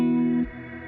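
A sustained clean guitar chord with an Ambient Tail effect rings out with a shimmering ambient tail, then fades into a soft, lingering wash of reverb.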